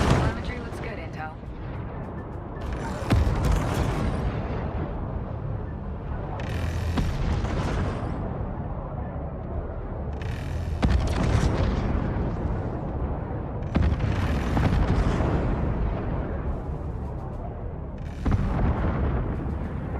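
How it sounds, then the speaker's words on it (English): Mothership hull defense guns firing in Homeworld 3, a dense run of booming blasts and bursts repeating every few seconds over a constant rumbling space-battle backdrop, loud and close. "Hull defense guns are active and engaging targets."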